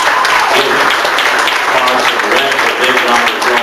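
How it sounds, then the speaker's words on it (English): A room full of luncheon and awards guests gives Russ Guinea a round of applause, a loud, thick wash of clapping that carries on steadily, with some voices underneath. "I think we ought to give Russ Guinea a big round of applause"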